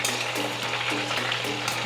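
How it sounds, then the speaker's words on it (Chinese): King oyster mushroom pieces deep-fry in hot oil in small batches, a steady bright sizzle and crackle with intermittent bursts of bubbling, close and moderately loud with no talking. "油熱了，把杏鮑菇分批放進來，先放少量進來炸。"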